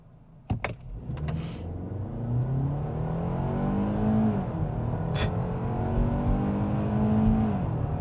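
A 2025 Hyundai Tucson 2.5L engine accelerates hard in a timed test run, its smooth tone rising steadily over several seconds, close and continuous after a few sharp clicks at the start.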